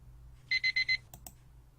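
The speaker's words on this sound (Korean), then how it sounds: "평일에는 세팅된 알람 소리에 눈을 뜬다." An alarm clock goes off in the Korean video game Phantasma with a rapid set of four electronic beeps, followed by two short clicks, all fairly faint over low background hum and with no talking.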